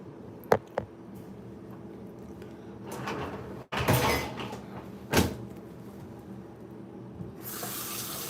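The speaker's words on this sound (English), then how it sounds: "I'm putting stuff in the dishwasher." Kitchen clatter of dishes being put into a dishwasher beside a wet sink: a few sharp clinks and knocks, a rack or door sliding with a loud thud, then a brief rush of water, all close by.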